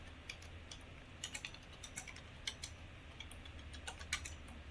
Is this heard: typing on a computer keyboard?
yes